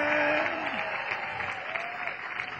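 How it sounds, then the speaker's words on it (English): A church audience cheers and applauds during a teaching session: a steady wash of clapping with a few raised voices mixed in. "They're cheering you, girls."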